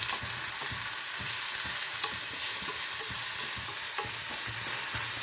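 Cabbage stir-fry sizzles loudly and continuously in a pan while being stirred, with soft clicking scrapes under the frying hiss and no speech.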